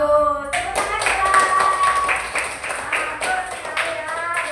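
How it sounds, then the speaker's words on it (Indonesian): A classroom of students bursts into brief, lively hand clapping after a teacher's question is answered; a voice speaks just before the applause, which continues as a dense patter for several seconds. "Tepuk tangan kita"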